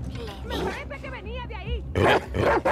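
Dog in The Last of Us Part II, with several barks and growls in short bursts amid other game sounds, louder toward the end.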